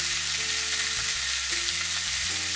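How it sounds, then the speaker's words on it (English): Salt-grilled mackerel cooks flesh-side down in a pan over medium heat, giving off a steady, dense sizzle that holds throughout while soft background music plays underneath. "Turn the heat to medium and grill the flesh."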